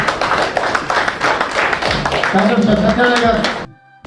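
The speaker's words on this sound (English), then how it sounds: "Give him a big clap." Hands clap in a conference hall at a Lions Club zonal meeting for a zone leader, a brisk burst of clapping that tapers off as a voice speaks over it and then stops abruptly.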